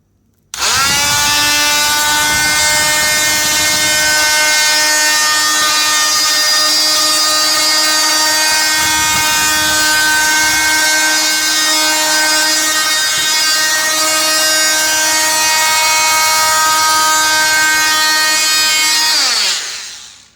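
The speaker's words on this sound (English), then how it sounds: "just going to use the Fatmax with the sanding adapter" A loud Stanley Fatmax power tool with a sanding adapter whines steadily against kitchen woodwork for about twenty seconds, starting abruptly and winding down at the end, with no voices.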